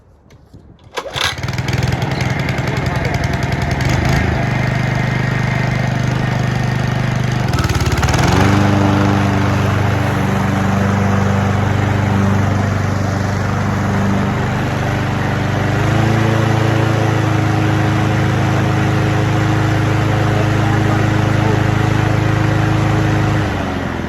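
A lawn mower engine, just tipped on its side for blade work, catches after a pull and roars into a loud, steady running drone, with a shift in engine pitch partway through, close by and without talking.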